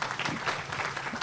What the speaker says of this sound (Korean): 큰 박수를 보내주시기 바랍니다